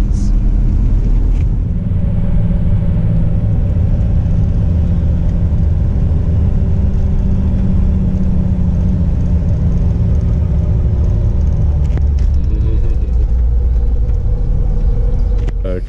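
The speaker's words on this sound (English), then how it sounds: "I'm just driving back to the village from the beach to pick him up." A van engine hums steadily from inside the cab on a coastal drive from a beach back to a village in northern Greece, a loud, constant low rumble with road roar and brief rattles.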